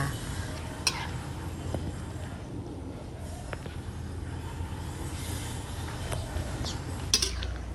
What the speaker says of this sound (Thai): ลวกเส้นเล็กเขาก็จะค้อยค้นให้เส้นกระจายบ่ให้เส้นก่อกันเป็นก้อนจ้า